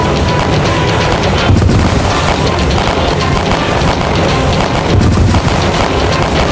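Rapid, continuous gunfire crackles and booms loudly throughout, a dense barrage of shots with no pauses, in a dramatized Maharana Pratap battle against the Mughal army at a fort.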